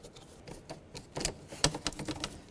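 Light clicking and ratcheting from loosening a worm-drive hose clamp under the hood of a 2005-10 Volkswagen Jetta, a quiet, irregular run of small ticks, close and unaccompanied by speech.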